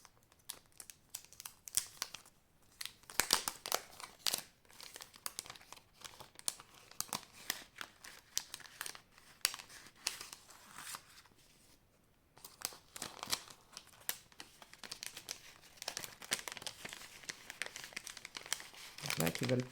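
A small paper envelope from an AliExpress order being opened by hand, giving close, loud, irregular crinkling and rustling in bursts with brief pauses, ending in a dense flurry.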